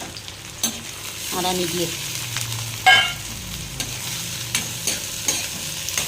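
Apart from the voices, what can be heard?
onion, chili and garlic sizzling in hot oil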